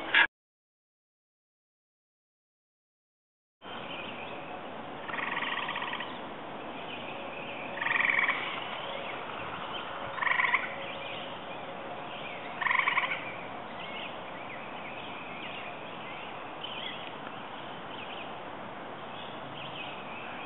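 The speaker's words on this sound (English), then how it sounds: "Gray tree frog calling." Gray tree frogs call at a pond after a brief silence, giving several loud, short trilling bursts at irregular intervals over a low background hum of pond sounds.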